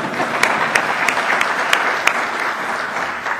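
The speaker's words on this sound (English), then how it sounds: "You can applaud for that." Audience at a New York State Assembly speaker's acceptance speech applauding, a dense steady round of clapping with sharper individual claps standing out.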